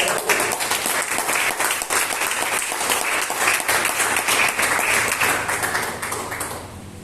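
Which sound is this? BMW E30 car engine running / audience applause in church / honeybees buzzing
audience applause in church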